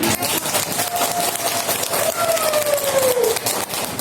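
A group claps together in a dense, continuous burst of applause after a cooking session, with a faint whistle-like tone gliding down partway through.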